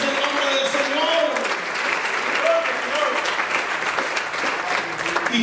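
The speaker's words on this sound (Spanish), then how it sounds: "Denle un aplauso a Cristo" A church congregation applauds steadily at a worship service, a dense wash of clapping with scattered voices and faint tonal sounds mixed in, sustained at even loudness throughout.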